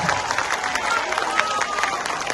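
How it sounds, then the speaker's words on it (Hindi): A political rally crowd claps continuously, a dense steady patter of many hands, with faint crowd noise and some voices mixed in. "जोर से बजाइए ताली"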